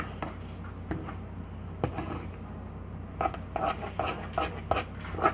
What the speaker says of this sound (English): so once you stir it, you want to keep stirring it